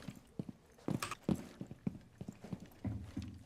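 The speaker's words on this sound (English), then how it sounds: "I'm hearing a lot of footsteps" Footsteps in a video game, a series of irregular close thuds and scuffs, several steps in quick succession with brief gaps, no talk.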